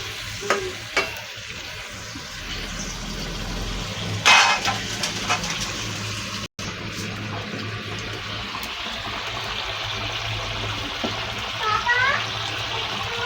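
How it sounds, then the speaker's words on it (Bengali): Water poured into a pot of cooking meat curry in a home kitchen, a soft sizzle and splash over a continuous frying hiss, with a few clinks and scrapes. "আর একটু জল দিয়ে দেবো হালকা করে।"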